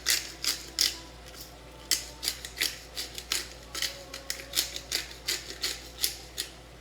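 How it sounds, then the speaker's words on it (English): A hand-held pepper grinder cranked over a pot while making keto jambalaya, giving a steady series of sharp, crunchy grinding bursts in a quick, even rhythm, close by with no talk. "So the pepper I have in a grinder, so I'm just going to kind of eyeball it"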